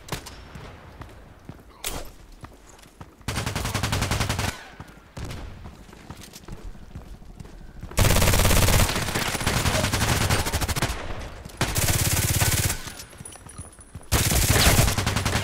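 Kriss Vector SMG gunfire in the video game Contract Wars: loud full-auto bursts of about one to two seconds each, separated by quieter pauses, repeating several times with no one speaking.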